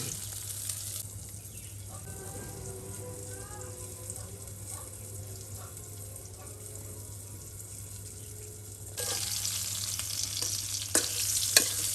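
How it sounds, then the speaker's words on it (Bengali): Pointed gourd (potol) frying in a pan during village-style cooking: a low, steady sizzle with faint voices in the background, swelling into a louder, harsher hiss near the end. "পটলগুলো ভাজি করে নেওয়া হলো"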